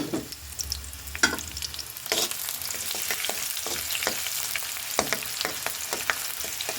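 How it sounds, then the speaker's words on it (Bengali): Sliced onion frying in a pan with bay leaf and garam masala gives a steady, close sizzle, broken by sharp scrapes and clatters of stirring. "আমি এই যে পেঁয়াজ দিয়ে দিলাম তার সাথে আমি এই যে তেজপাতা গরম মশলা দিয়ে দিব"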